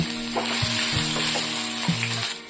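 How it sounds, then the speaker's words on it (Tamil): Loud, continuous sizzling of ginger frying in hot oil, with a few soft knocks of a utensil stirring the pan. "இஞ்சி நல்லா எண்ணெயில் பொறிஞ்சிருச்சு"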